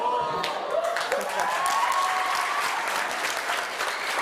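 Assembly delegates break into sustained applause for a motion just passed, a dense wash of many hands clapping at a heads-of-state assembly hall, with a faint voice rising over it.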